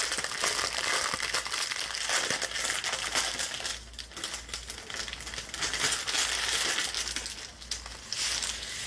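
A plastic packet of diamond painting rhinestones is opened up close, giving continuous crinkling and crumpling with a few sharper rustles.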